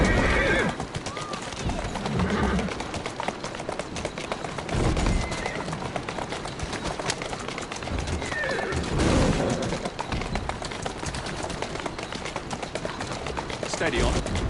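A horse whinnies and its hooves clip-clop in Assassin's Creed Syndicate gameplay, with repeated neighs over steady hoofbeats and occasional distant gunfire.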